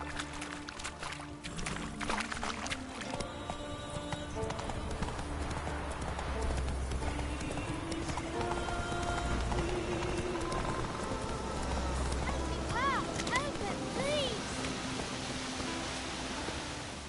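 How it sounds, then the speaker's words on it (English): A horse in the video game The Witcher 3 gallops with rhythmic hoof clip-clops over a soft ambient bed, accompanied by faint game sounds and brief tonal chirps near the end. "Whoa there, Roach"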